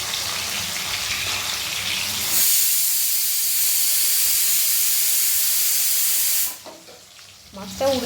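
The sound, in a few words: hilsa fish sizzling in a frying pan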